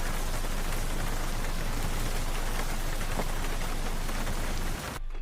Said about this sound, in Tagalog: Ang lala ng ulan, ang lala ng hangin.